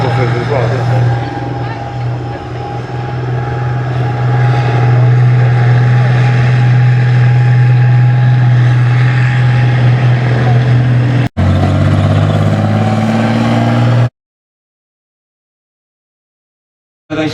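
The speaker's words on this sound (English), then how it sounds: "the Fury tank is actually powered by a twin GM diesel engine" Twin GM diesel engine of a Fury tank in an arena display, a loud steady low rumble with a strong drone that shifts near the end before cutting to silence.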